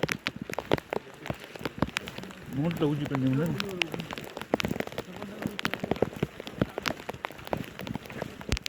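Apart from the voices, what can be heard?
rain while descending Raigad fort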